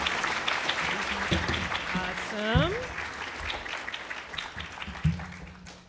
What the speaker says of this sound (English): maybe we can start with a round of applause to thank them all for being here